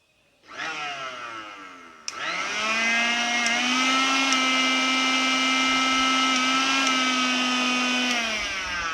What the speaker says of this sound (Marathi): मिक्सर रिपेअर केल्यानंतरचा आवाज